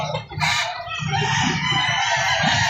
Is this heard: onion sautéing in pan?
no